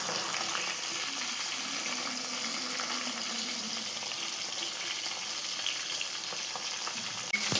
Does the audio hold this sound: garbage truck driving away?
no